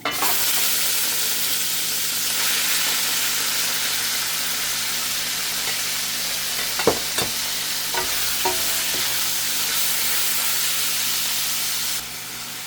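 Chicken fries with garlic in clarified butter for sweet potato noodles, giving a steady loud sizzle and hiss, with a few brief utensil clicks partway through.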